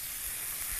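Tamarind and brown sugar sauce cooking in a pan, a steady soft sizzle and hiss running evenly and quietly throughout.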